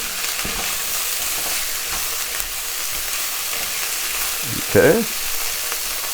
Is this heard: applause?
no